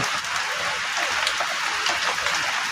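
Heavy rain pours down steadily during an evening flying-ant swarm in Huai Thalaeng, Korat, a dense continuous hiss of drops close by with no voices.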